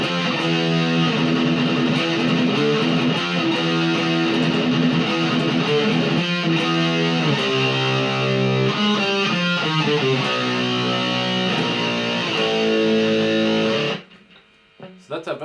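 Slow verse riff from a song played on heavily distorted electric guitar, steady chugging chords changing over about fourteen seconds, loud and alone, then stopping abruptly.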